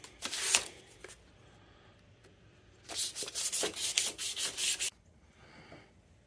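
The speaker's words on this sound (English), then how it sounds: "We'll smooth that up. It's just a piece of 1000 grit." Hand sanding with a small piece of 1000-grit sandpaper on a 1958 Cushman Eagle scooter, a brief rub at first, then a run of quick rhythmic scratchy strokes, close and fairly quiet.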